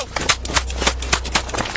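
Rapid gunshots fired by a police officer during a traffic stop, a quick series of sharp, loud cracks in close succession over a low rumble, recorded up close.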